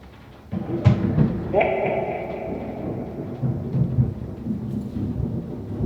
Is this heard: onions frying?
no